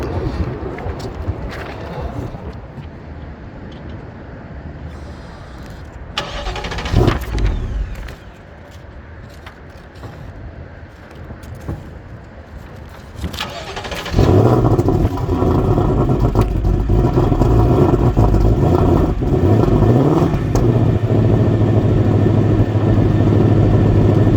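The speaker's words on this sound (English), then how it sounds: "let's see if I can get y'all a cold start before I crank this car up" A car engine cranks on a cold start and fires up partway through, then settles into a loud, rough idle that continues steadily; scattered clicks and rustling come before it starts.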